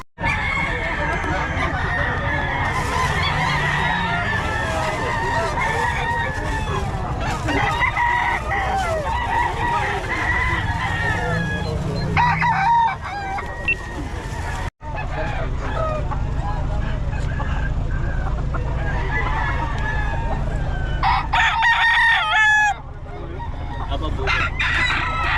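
Roosters crow repeatedly and chickens cluck throughout a busy poultry selling gathering, loud and close, with people talking over the birds and a brief break partway through.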